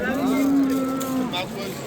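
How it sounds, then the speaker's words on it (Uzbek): A large cow lets out a single long, low moo nearby at a livestock market in Shahrixon, Uzbekistan, steady for over a second, with faint background noise around it. "Mana qaranglar, yirik sigirlar."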